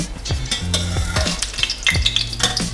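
Eggs frying in hot oil in a pan, sharp sizzling bursts and crackles punctuated by scraping stirs of a utensil, close and fairly loud with no talking.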